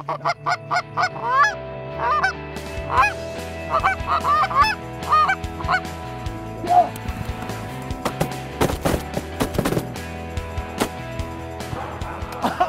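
Many geese honk loudly and repeatedly in a noisy, overlapping chorus during a goose hunt in Saskatchewan, with a few sharp gunshot bangs and some distant voices mixed in.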